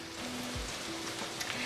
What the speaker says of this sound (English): So I'll continue frying this till my onions are lightly golden brown.